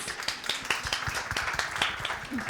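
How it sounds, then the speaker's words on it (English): An audience at a conference panel discussion applauds with a dense, moderately loud patter of clapping that holds steady throughout. "Yes, claps, please."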